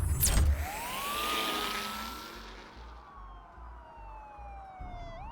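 Police car sirens wail in the Batman Telltale Series video game, a rising then slowly falling electronic tone with a second siren trailing behind, fairly loud over a low rumble and a brief sharp burst at the start.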